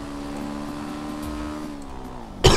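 A motorcycle engine in GTA V drones at a steady mid pitch with a slight rise and fall, then bursts into a sudden loud rev right at the end.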